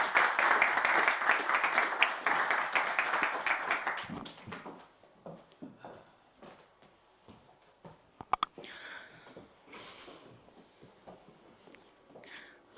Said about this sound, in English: But first, applause to you.